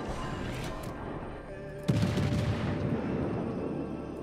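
Heavy secondary guns firing during a World of Warships naval battle, a dense rumbling barrage with a sharp boom near two seconds, sustained gunfire continuing underneath.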